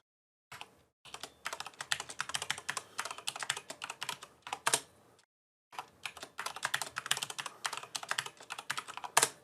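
Root password being typed on a computer keyboard during a Gentoo Linux install: quick, close key clicks in two bursts split by a brief pause, with a few heavier key strikes, no voices.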